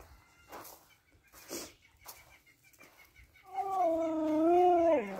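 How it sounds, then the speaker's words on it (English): A husky dog whines loudly and close by for about two seconds, a wavering, rising-and-falling howl-like whine that follows a few quieter scuffs and faint chirps in an outdoor garden setting. "And then if you hear that, we have a husky."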